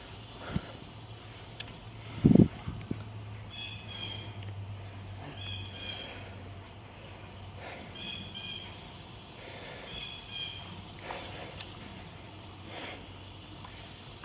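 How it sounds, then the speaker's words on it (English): Sage trig crickets chirr in a steady, thin, high trill that runs through the whole stretch, with scattered bird calls and a brief soft thump early on. "I'm also hearing the trigs."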